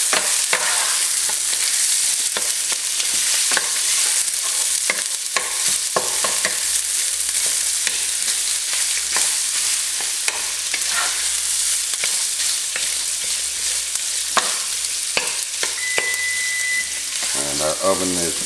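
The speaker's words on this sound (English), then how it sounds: "Stir and break this up a little bit." Chili sizzles steadily in a frying pan while a utensil stirs and breaks it up, loud continuous frying crackle with scraping knocks throughout and no talk.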